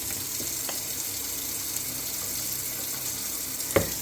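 A quarter cup of liquid is poured over wheat in a container, a faint steady hissing trickle with a brief soft knock near the end.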